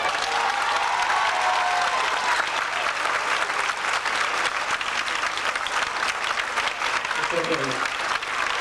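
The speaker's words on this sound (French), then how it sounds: "je vous propose de l'applaudir très fort" A large audience claps steadily and loudly for several seconds, a dense sustained wave of applause with a brief voice near the end.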